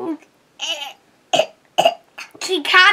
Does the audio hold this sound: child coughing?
yes